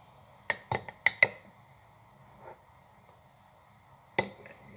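A spoon taps against a glass bowl to knock Nutella and sugar off, making a quick cluster of four sharp clinks, a faint softer knock, then one more clink after a pause; close and fairly quiet.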